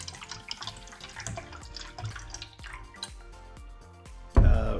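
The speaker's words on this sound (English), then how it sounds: "the bag's already wet, so I'm just gonna go ahead and add in water" Water poured into a bag of electrolyte-reduced water for a water test, a close run of dripping and trickling splashes ending in a louder, fuller pour.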